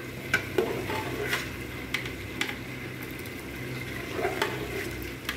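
Grey partridge curry cooks in a pot, a steady low bubbling simmer with occasional soft scrapes and stirs, close and moderately loud, with no voices.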